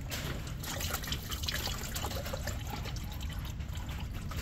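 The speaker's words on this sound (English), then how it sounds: "There is more fluid coming out from there." Transmission fluid drains from a Toyota C-HR after the filter is removed, a constant close trickle and splatter of liquid falling into a pan, with no speech.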